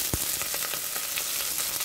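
Garlic and onion sautéing in hot oil in a pan for chicken feet adobo, a steady crackling sizzle with a sharp pop near the start, heard alone at close range.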